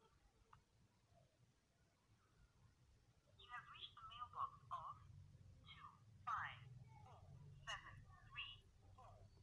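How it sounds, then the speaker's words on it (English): A telephone ringing during a prank call, heard as faint, repeated electronic ring tones that start a few seconds in over a quiet line, mixed with some voice. "Phone is ringing."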